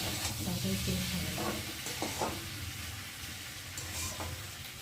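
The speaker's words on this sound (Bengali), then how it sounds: "মশলা ভালোভাবে আলুর সাথে কষিয়ে নিয়েছি, আর দেখো কত সুন্দর ভাজা ভাজা হয়েছে, তেলও ছেড়ে দিয়েছে" Spiced potatoes sizzle and crackle in oil in a pan, a steady frying hiss with a few soft stirring scrapes, fairly quiet and without talking.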